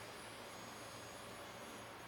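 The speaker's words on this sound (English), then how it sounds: "the flex cordless mini blower here and blow out any of the nooks and crannies" A cordless mini blower blows out the engine bay of a 2019 Mercedes-Benz AMG E53, giving a steady faint whooshing hiss with a thin high whine, alone and unbroken.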